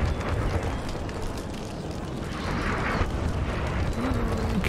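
Cannons firing in a Napoleonic Total War III Peninsular Campaign battle produce a continuous rumbling barrage of overlapping low booms. The booms are heavy and fairly loud throughout, with no clear gaps between shots.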